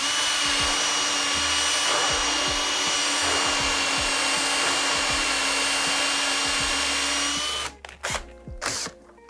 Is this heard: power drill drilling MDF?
yes